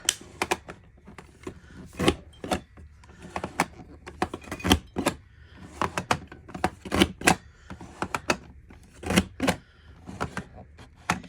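A CM Border Maker System cutting a scalloped stitched border into paper: a quick series of crisp clicks and snapping punches in uneven bursts, close and fairly loud, with no talk.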